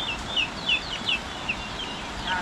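A rooster clucks in short repeated chirp-like calls over a steady, noisy outdoor background.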